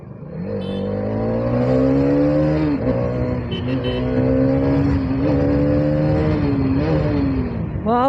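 A Hero Karizma motorcycle rides past with a loud, steady engine drone that rises and falls in pitch through its gears over several seconds.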